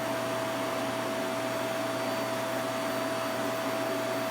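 A vacuum cleaner drones steadily nearby, its constant whine and rushing air unbroken throughout.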